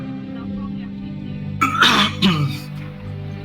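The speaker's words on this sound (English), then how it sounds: "Sorry, got a coughing thing going on" Two or three rough coughs or throat-clearing bursts break out after a quiet stretch, close and fairly loud, with a low hum underneath.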